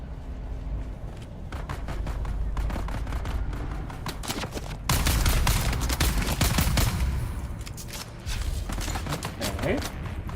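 Rapid bursts of gunfire in the video game Dune: Awakening, with dense volleys of shots and loud heavier blasts midway, continuing steadily throughout at close range.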